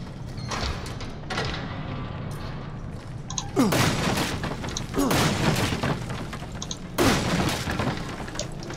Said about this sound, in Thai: ระเบิดเพลิง